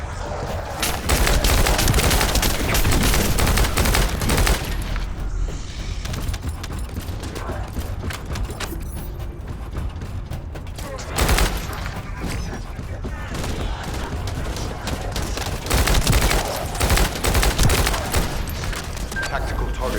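An assault turret fires in The First Descendant amid sustained, dense bursts of gunfire and mechanical clatter. The shooting is loud and continuous with brief lulls, and game voices are heard.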